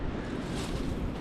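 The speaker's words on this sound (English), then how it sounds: "Really windy today" Strong wind blowing outdoors on a cold day with snow starting to fall, a steady loud broadband roar with gusting buffets across the microphone, continuous without pauses and no voices.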